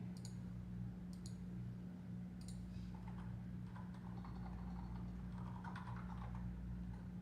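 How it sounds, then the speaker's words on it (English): Faint, irregular computer keyboard clicks as a git clone command is typed, sitting under a steady low electrical hum with no talking. "I was just typing git clone."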